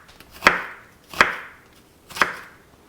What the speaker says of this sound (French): Puis on va passer à la découpe de l'oignon. On va le couper d'abord ici horizontalement, puis quelques lamelles sans aller jusqu'au bout.